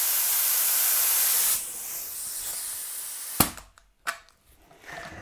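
A paint spray gun set to 2 bar with its trigger pulled fully open blows a loud, steady hiss of air, which then drops to a softer flow before a couple of sharp trigger clicks and pops.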